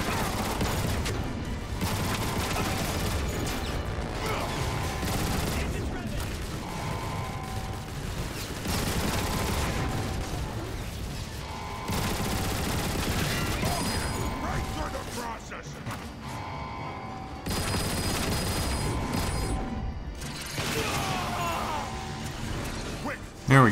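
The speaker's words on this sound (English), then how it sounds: "letting Megatron and Barricade just kind of get their attention so we can mow them down with the turret" Rapid turret fire and mechanical clatter in Transformers: War for Cybertron, mowing down Megatron and Barricade. Loud bursts come in long runs broken by short pauses, with a voice talking over parts of it.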